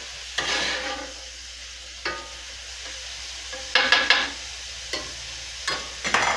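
Food cooks in a pan before potatoes go in, with a soft background sizzle broken by intermittent scraping stirs of a utensil against the pan, close and clear, no talk.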